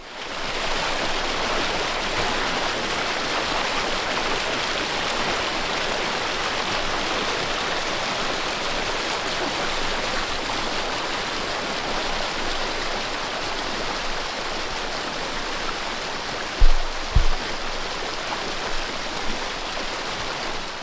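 Floodwater rushes out across a farm market garden where normally only a small pond and a tiny stream sit, a steady loud broadband roar throughout, with a couple of brief low thumps near the end.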